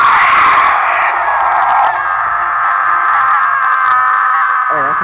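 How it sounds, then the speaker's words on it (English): A loud, sustained scream from an infected in the Left 4 Dead video game rings out across the whole clip, bright and strained, with a brief lower growl near the end. "just listen to that scream"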